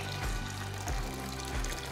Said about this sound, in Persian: همینجا یه مقداری آب رو میریزیم